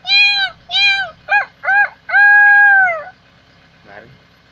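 A person imitates a cat meowing with five close, loud mews: four short ones in quick succession, then a longer drawn-out meow, followed by a faint brief sound.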